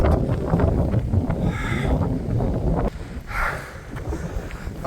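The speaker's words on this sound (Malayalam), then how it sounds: "ഒരു രക്ഷയില്ലാത്ത കാറ്റ്" Strong mountain wind buffets the microphone in loud, continuous gusts that rise and fall. A brief lull comes partway through before the roar picks up again.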